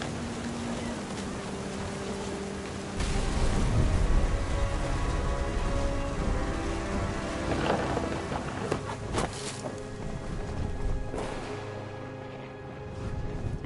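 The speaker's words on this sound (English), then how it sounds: "The thunder sounded much too close and full of angry power." A thunderstorm with steady rain, heard as a dense continuous hiss of falling water that swells louder a few seconds in and carries on with scattered crackles and splashes, without any voice.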